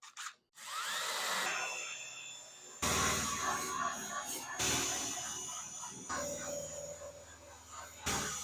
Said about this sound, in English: To get the Bondo out, I put this wire wheel on a drill.